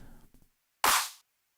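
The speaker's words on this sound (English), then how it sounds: "There's a clap on every other snare hit." A single bright electronic handclap layered on a snare hit in a simple game-music drum pattern, a sharp noisy burst standing alone after some faint residual sound.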